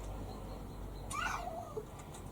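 A single cat meow rises and falls in the middle, close and moderately loud, over a steady low background hum.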